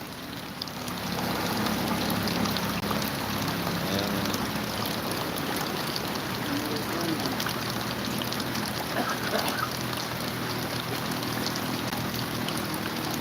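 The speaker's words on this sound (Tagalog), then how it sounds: "Ulan na ulan, grabing ulan. Walang tigil ang ulan." Steady, dense rain hiss fills the whole stretch, constant and fairly loud with a low rumble underneath, no voices.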